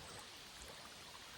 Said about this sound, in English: We got water moving now.